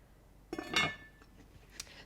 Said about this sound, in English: I'm going to get them on the stove on high with a lid on top of it